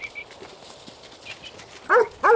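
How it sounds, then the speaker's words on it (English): Farm sheepdogs, including heading dogs and a bearded collie, give two sharp barks near the end, close and loud, after a stretch of quiet outdoor background. "I'm running 6 dogs, 2 heading dogs, Ace and Teal"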